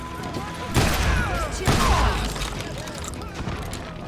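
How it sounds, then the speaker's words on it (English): Gunfire in a street shootout in the Call of Juarez: Gunslinger game in the town of Lincoln, with two heavy blasts followed by a rattling volley of shots and a voice mixed in. "They're shooting in the street!"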